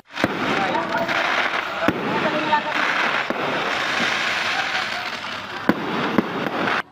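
Fireworks at the Pasko sa Sibugay 2024 Christmas opening in Zamboanga Sibugay crackle and pop continuously in a dense, loud barrage, with several sharp individual bangs standing out over a steady rushing crackle.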